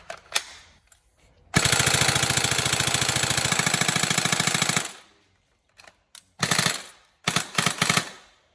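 A Tokyo Marui G36K next-generation recoil electric airsoft gun fires a sustained full-auto burst of about three seconds, loud and close, followed by several shorter bursts with pauses between them.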